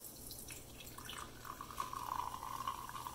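Carbonated water with no calories, sweeteners or sodium fizzes quietly as dissolved carbon dioxide bubbles pop in a soft, continuous crackle, with a faint drip-like patter toward the end.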